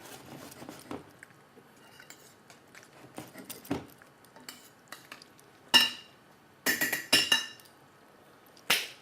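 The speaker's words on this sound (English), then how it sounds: "Just mix the corn flour." A corn flour mix stirred into simmering chicken curry in a pot, with soft scraping and scattered metallic clinks of the spoon that turn into louder, sharper knocks toward the end, close up and with no voices.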